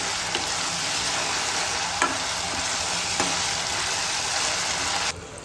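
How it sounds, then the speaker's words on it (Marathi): Ginger-garlic paste sautés in hot oil on a lowered gas flame for Maharashtrian matki misal, a loud, continuous sizzle with a few sharp spatula scrapes, ending abruptly near the close. "आता ही आपण तेलामध्ये परतूया."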